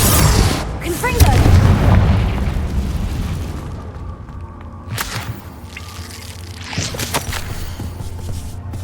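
Confringo explosion spells in the Hogwarts Legacy video game go off as several booming blasts, a big burst early on followed by sharper bangs, loud and close over rumbling game ambience.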